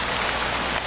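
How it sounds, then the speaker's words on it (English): Rain falls in the video game Minecraft, a dense, even hiss of steady downpour, loud and close, lasting under a second with no voices. "and the rain just started."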